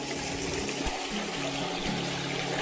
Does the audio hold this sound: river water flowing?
yes